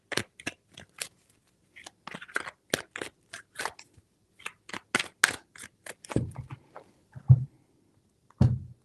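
Tarot cards are shuffled in a series of crisp, rapid riffling and snapping bursts, close and fairly quiet, with brief pauses between them and a few soft thumps toward the end.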